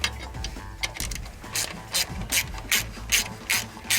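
A ratchet cranks the belt tensioner on a 2002 Subaru to lower the alternator, giving close, sharp clicking pawl strokes in a steady repeating rhythm of about ten bursts, with no talking.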